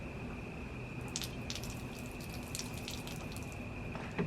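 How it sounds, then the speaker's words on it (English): Steady running water draining from an RV's faucets, a continuous hiss with faint drips and splashes, moderately close and alone. "as I open those faucets, you might see more water start to drain out."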